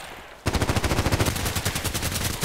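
Rapid automatic gunfire in the online shooter Contract Wars, a loud close burst of about a dozen evenly spaced shots after a moment of quiet, then a slightly softer continuing rattle.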